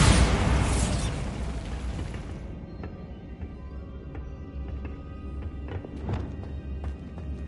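A Bombarda blast spell goes off in the video game Hogwarts Legacy. A loud, booming burst opens the clip, then rumbles away into quieter game ambience broken by scattered small clicks and pops.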